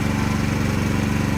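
A Chinese mini excavator's small engine runs steadily up close, a loud, even chugging rumble with a fast regular pulse and no rattle, alone without talk.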